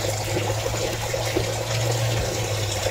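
Lambanog coconut liquor runs steadily from a traditional still, a continuous trickling and splashing of liquid that stays close and unbroken over a low steady hum.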